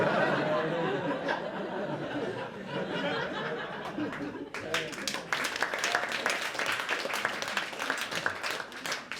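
A stand-up comedy audience applauds, with dense scattered clapping and some laughter building after a murmuring start and carrying on loudly to the end.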